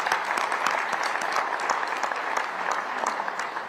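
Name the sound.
audience applause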